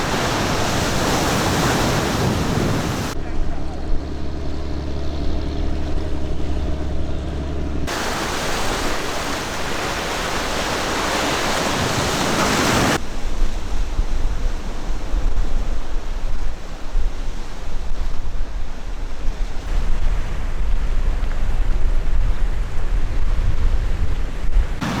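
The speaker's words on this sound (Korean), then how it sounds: "이렇게 바다와 몇 미터 거리를 두고 걸으니 너무나 생생하게 파도 소리를 들으며 걸어서인지 발걸음이 가볍게 느껴졌습니다." East Sea surf breaks along a volcanic coastal walking trail at Yeongdeok, a steady, loud rush of waves heard close by. Wind noise is mixed in, and abrupt shifts in tone cut the sound into segments.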